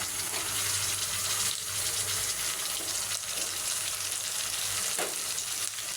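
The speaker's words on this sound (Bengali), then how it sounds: "এখন দিয়ে দিব 1 চামচ পেঁয়াজ বাটা," Onion paste goes into a hot frying pan with a dense, close sizzle and spatula stirring, plus a faint watery hiss underneath and no one speaking.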